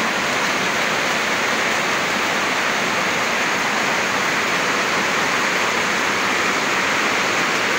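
Heavy rain pours down on a house during a sudden downpour, with water leaking and dripping inside; a loud, steady, broadband hiss of rainfall fills the whole span without a break.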